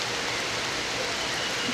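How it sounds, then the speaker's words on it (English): Steady rain falls on surfaces outdoors as an even, dense hiss with fine pattering drops, continuous and moderately loud with no voices. "It is right now raining"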